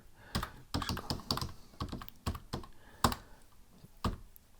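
Keys clacking on a computer keyboard while a command is typed on a Raspberry Pi, a close, quiet run of about a dozen separate key presses in an uneven rhythm.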